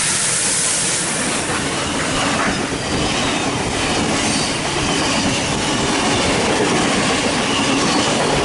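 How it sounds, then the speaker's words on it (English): Locomotive 5917 hauling the Kiama Picnic Train rumbles past platform 2 at Heathcote station, with continuous roaring wheel noise, rhythmic rail clatter and faint squeals throughout. "5917 with the Kiama Picnic Train passing platform number 2"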